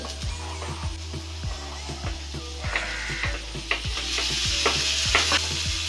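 Boiled chickpeas with potatoes, onion and green chilli being stirred in a pan for chana chaat: a spoon scrapes rhythmically about twice a second over a soft sizzle, close and alone.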